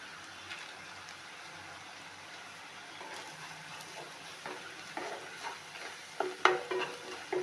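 Salted onions browning to golden for prawn gravy sizzle softly in a hot pan while a spoon scrapes and stirs, steady frying hiss with occasional clinks near the end, no speech.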